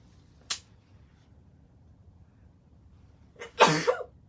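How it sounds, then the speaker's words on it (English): A small click, a quiet pause, then a sharp breathy intake followed by one loud, close sneeze. "Excuse me, I'm about to sneeze."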